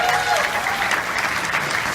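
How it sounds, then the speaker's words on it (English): Brief burst of crowd applause at a Comic-Con 2018 voice-over panel, a steady, full wash of clapping from a large audience with a faint voice at the very start. "Give her another round of applause."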